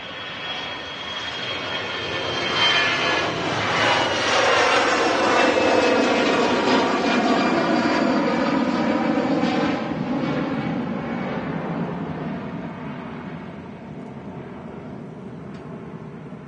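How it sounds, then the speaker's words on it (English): An easyJet Airbus A320 jet departs Manchester Airport, a broad, loud roar of jet engines building over the first few seconds, holding strongly, then slowly fading as the aircraft moves away. "EasyJet 320. About to leave us here at Manchester."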